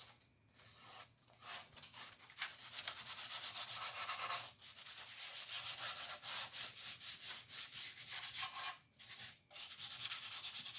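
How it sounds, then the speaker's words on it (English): 220 grit sandpaper scrubs across a guitar body kit in rhythmic back-and-forth strokes, close and steady with short pauses between passes, fairly soft overall. "Here I'm going over the entire body with 220 grit sandpaper to smooth things down a bit."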